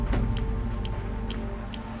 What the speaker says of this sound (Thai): เสียงนาฬิกาแก๊กแก๊กแก๊กแก๊ก